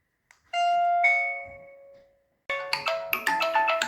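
A Chinese wifi video doorbell sounds its indoor ding-dong chime: a sustained two-tone ring that fades out, then after a short pause a brighter, faster run of chime notes, clear and close.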